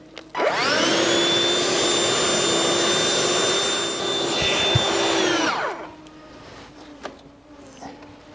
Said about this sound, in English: Just hoovering out all the bits of swarf.